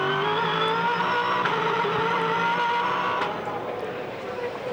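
V8 Supercars race cars racing at Sandown during a 2010 championship race, a continuous high-pitched engine drone from several cars, steady and loud, fading slightly near the end.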